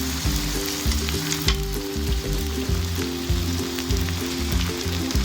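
Egg paratha mixture fries in a pan greased with about half a teaspoon of oil on the stove, giving a steady, close sizzle with faint crackles that never lets up.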